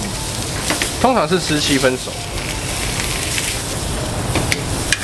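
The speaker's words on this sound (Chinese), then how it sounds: "我们就可以把鸭肉这一面下去煎" Salted duck breast laid skin side down in a hot pan over high heat, bursting into a loud sizzle that settles into steady frying hiss while someone talks.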